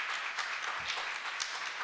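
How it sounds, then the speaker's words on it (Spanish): Brief burst of audience applause for a researcher at an academic talk, steady dense clapping throughout with no speech over it. "Les pido nuevamente un aplauso para nuestro investigador Pierre Lawson"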